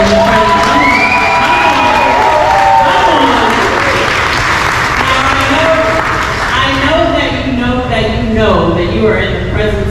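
A live crowd at a Club Zanzibar house music night at Newark Public Library bursts into loud, sustained applause and cheering with whoops, voices shouting over the clapping throughout.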